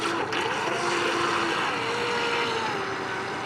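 A Double Horse 7009 RC speedboat spinning out on water, its electric motor whining steadily and close by, the pitch sliding slightly as it turns.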